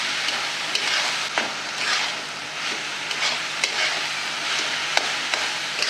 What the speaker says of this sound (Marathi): आता हे आपलं सारण एकदम परफेक्ट परतून झालेलं आहे